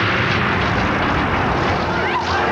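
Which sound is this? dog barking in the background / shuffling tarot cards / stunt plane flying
stunt plane flying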